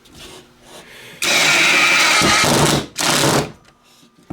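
A cheap 18V brushless 1/2-inch impact wrench, a Makita knockoff, runs in low range with two loud close bursts of rapid hammering, the first about 1.7 seconds long and the second shorter, separated by a brief pause.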